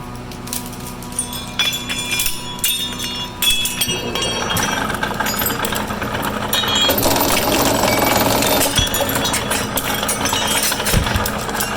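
A CopperMine 520 copper cable stripping machine runs on tray cable, giving off a loud, continuous mechanical rattle and hum with clinking metallic hits that thicken and grow busier partway through.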